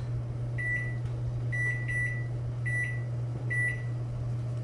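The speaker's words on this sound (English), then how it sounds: "Set the timer for another 30 seconds." While sourdough bagels boil in a kitchen, a timer sounds clear, high-pitched electronic beeps in short clusters of one or two, spaced about a second apart, over a steady low appliance hum.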